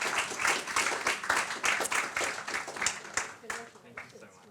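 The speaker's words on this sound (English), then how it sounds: "Please give Alex a big round of applause" Audience applause for award winner Alex Norden at a leadership awards ceremony, steady clapping from a crowd that thins and fades toward the end, with some voices mixed in.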